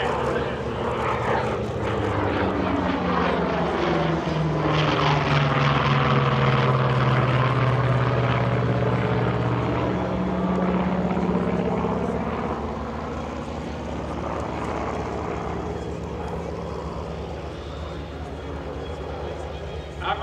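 A Korean War-era F4U Corsair propeller fighter passes overhead at an airshow, its big radial engine roaring loudly and sweeping in pitch as it flies by, with a public-address announcer talking over it throughout.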